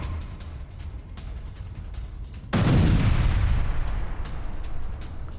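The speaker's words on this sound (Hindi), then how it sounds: "रिहायशी इलाके के नजदीक भयंकर बमबारी की गई है" Heavy aerial bombing near a residential area in central Gaza sets off a sudden deep blast partway through, followed by a sustained low rumble and roar over a steady background din.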